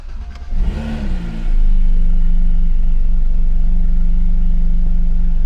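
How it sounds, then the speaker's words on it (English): A Porsche 991 GT3 RS engine with the exhaust in quiet mode, a low, steady idle rumble that rises from a softer start into a constant close drone. "It's very quiet when the exhaust on quiet mode."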